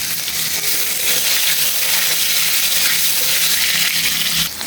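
Potatoes frying in a pan with black cumin and salt while cooking fish, giving a steady loud hiss and sizzle throughout with faint scraping underneath.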